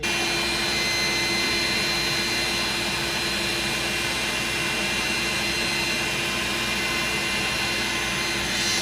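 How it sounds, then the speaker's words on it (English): A constant, loud whining roar with a steady high-pitched hum runs without pause, like a vacuum cleaner motor running close by, aboard a Hunter 40 Legend sailboat on AC shore power. "We need the vacuum cleaner to work."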